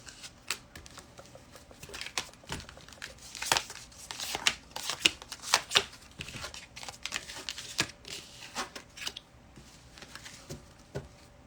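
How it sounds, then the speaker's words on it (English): A tarot deck gets cut and shuffled close up. Crisp, irregular riffles and soft card slaps come in clustered bursts over a quiet background, with no talking. "Cut the deck."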